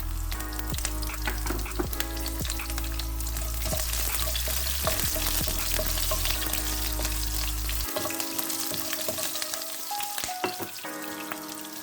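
Garlic and green chillies sizzle and crackle in hot oil in a pan while a prawn coconut milk curry is being cooked, a steady loud frying hiss with constant popping and no talking.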